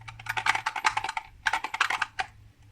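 Tiny metal charms rattle inside a gift box in two shaken bursts with a short pause between, bright clicky jingling up close.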